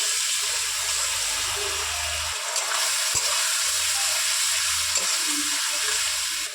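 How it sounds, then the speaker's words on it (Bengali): Onions and ground spice paste sizzle steadily in a hot pan as the base for a pangas fish curry, a continuous frying hiss with occasional soft scrapes of stirring. "পেঁয়াজটাকে একটু ভালো করে ভেজে নিতে হবে।"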